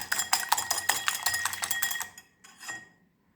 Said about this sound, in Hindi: ये 2 अंडे लिए हैं, अच्छी तरह हम इसे बीट कर लेते हैं